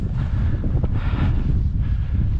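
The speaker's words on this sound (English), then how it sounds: "windy up here" Steady, rough wind buffeting the microphone on a snowy high campsite, a constant low rumble with gusty rises throughout.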